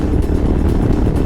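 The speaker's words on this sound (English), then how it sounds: "The engine noise becomes more evident. So that's the struggle of an engine." A Royal Enfield Himalayan motorcycle engine labours on a highway, a loud, low rumbling drone with wind buffeting, heard close and continuous with no talking.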